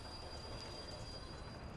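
A passing train in the Soviet Republic-building game Workers and Resources, rolling along as a steady broadband rumble and rail noise with a thin high whine running throughout, fairly quiet and with no one speaking.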